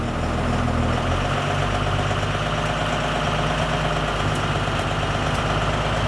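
A large diesel school bus engine idles steadily in freezing cold, with a deep, rumbling drone and constant low throb, close by and unchanging for several seconds.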